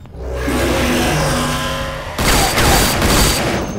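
Gunfire in the video game Shadowrun Chronicles: a sustained, loud burst of shots and rumbling combat noise that swells into a harsher, denser volley partway through, with no speech.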